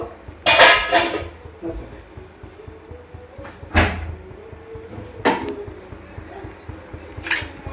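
Meat curry stirred in a cooking pot, with several sharp metallic clanks and scrapes of the spoon against the pot, separated by quieter stretches of faint kitchen noise.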